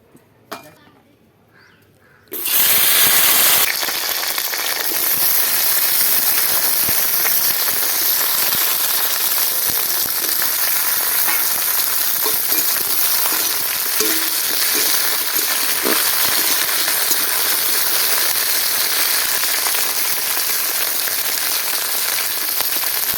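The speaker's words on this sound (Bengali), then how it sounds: "এবার আগে আমি ঢ্যাঁড়সটা ভেজে নেব ভালো করে।" Okra fries vigorously in hot oil in a wok, a loud, dense, continuous sizzle that bursts on suddenly after a quiet start and stays steady to the end.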